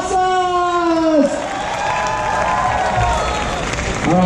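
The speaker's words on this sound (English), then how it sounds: "Once again, please give a round of applause to our dancers!" Applause and cheering from a crowd at a dance battle exhibition, dense clapping under a sustained musical tone that slides and drops, with scattered shouts through the hall.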